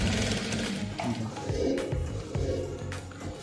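Sewing machine stitching the collar onto a shirt, close up, with short bursts of rapid mechanical needle chatter broken by brief pauses and light handling noises.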